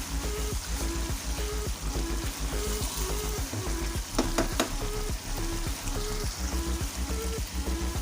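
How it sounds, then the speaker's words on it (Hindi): Chicken and tinda curry fries in oil in a pan, a close, dense sizzle with rhythmic stirring scrapes and clatter running throughout. "अब मज़ीद में इसे 1 से 2 मिनट तक इसकी अच्छे से बुनाई करूँगी"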